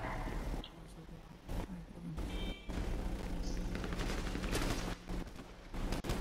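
Gunfire in the video game GTA 5 during a police patrol, rapid cracking shots in bursts among engine noise and a busy game soundscape, with voices talking over it.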